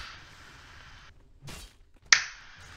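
A sharp slap of a hand against the face, a single crisp smack standing out clearly between quieter stretches of background noise.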